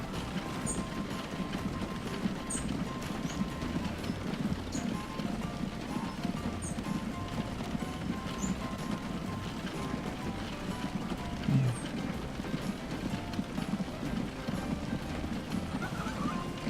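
Horse and cart trotting through town streets in the video game Transport Fever, a steady continuous clip-clop of hooves with a brief whinny partway through, heard against a low background hum.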